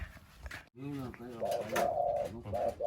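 A bird gives a low, throaty cooing call, repeated in short phrases, with a voice speaking softly nearby and faint background noise.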